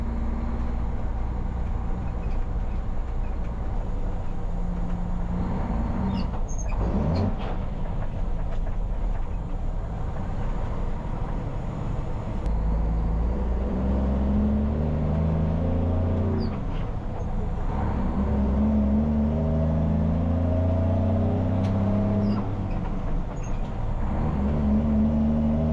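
An old truck engine runs with a continuous low rumble and shifting drone, steady and fairly close, with occasional rises in pitch as it works, no talk over it.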